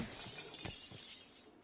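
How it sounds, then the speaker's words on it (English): Glass smashing in Call of Duty Cold War Outbreak, a bright shattering crash with a couple of sharp breaking hits followed by fading tinkles, fairly close. "Smash glass, front door."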